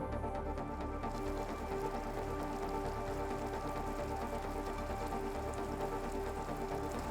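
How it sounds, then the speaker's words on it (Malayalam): Heavy rain pouring in northern Kerala, a dense, continuous roar of water on surfaces that stays loud and even throughout, with no voices. "വടക്കൻ കേരളത്തിൽ ഇന്നലെ രാത്രി തുടങ്ങിയ മഴ അതിശക്തമായി തന്നെയാണ് ഇപ്പോഴും പെയ്തുകൊണ്ടിരിക്കുന്നത്"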